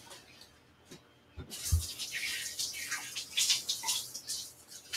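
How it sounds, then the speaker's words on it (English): A kitchen sink tap runs steadily as hands are rinsed, a brief clunk starting a continuous hissing splash of water that swells and wavers close by. "now I'm going to rinse my hands off"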